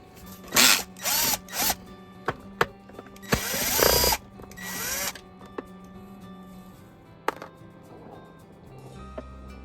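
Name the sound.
power screwdriver removing T10 screws from Shark vacuum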